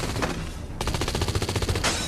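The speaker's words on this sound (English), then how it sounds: "As the sound of gunfire echoes across the field" Rapid rifle gunfire in a film battle on an Arizona ranch near the Mexican border: a burst of close, evenly spaced shots after a brief lull, loud with no voices.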